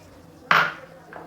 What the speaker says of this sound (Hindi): ये चॉपर लूँगी, इसमें मैं डालूँगी गाजर, बॉयल की हुई गाजर